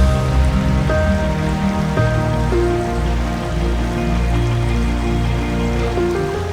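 Steady rain pattering down through a wet, misty woodland in the Peak District, a continuous soft hiss of drops on leaves and ground with no voices.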